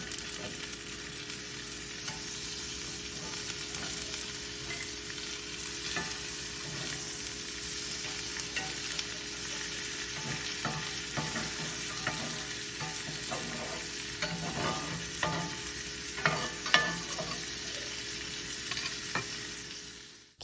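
Salmon fries in butter in a pan for blackened salmon Caesar salad, a continuous close sizzle and crackle with occasional utensil clicks, steady throughout with no voices.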